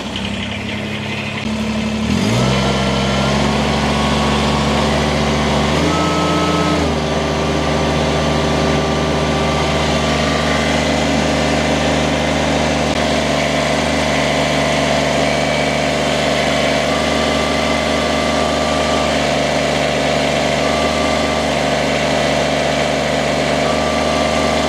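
A Kubota BX23S compact tractor engine starts and settles into a loud, steady run, its deep hum and harmonic drone holding evenly at high revs with no talk over it.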